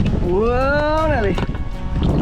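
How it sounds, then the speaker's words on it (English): Wind gusting over a kayak out on open water makes a constant low buffeting roar against the microphone, while a voice talks and sings over it up close. "She's getting a little windy out here."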